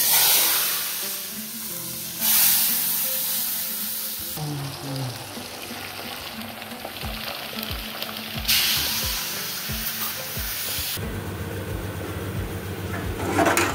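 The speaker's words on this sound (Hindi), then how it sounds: "कढ़ाई भी बस भून रही है" Food frying in a kadhai at a food business kitchen, a steady loud sizzle with bursts of hiss and stirring clatter, continuing alone throughout.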